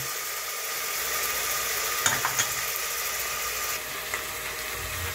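Small chicken pieces fry in a pan with a continuous loud sizzle, broken by a couple of short clanks and scrapes as they are stirred.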